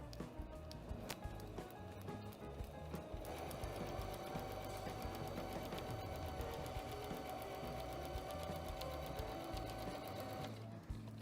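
A sewing machine stitches fabric in a steady, rapid mechanical rhythm, running continuously and close up, with a brief change in pace partway through before it stops near the end.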